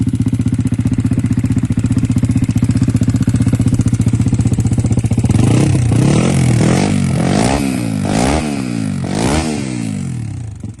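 A Honda Grom with a built CBR250R engine idles and revs up close, its valves knocking against the piston. A loud, rapid rattle runs under the idle, then swells through several rising and falling revs.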